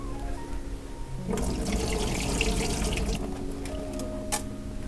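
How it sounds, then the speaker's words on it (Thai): Cloudy water from rinsing Japanese rice is poured out into a kitchen sink, a steady close splashing rush that swells after a soft start and runs continuously, with no talking. "พอเราเทน้ำที่เราซาวข้าวครั้งสุดท้ายออกแล้วนะคะ"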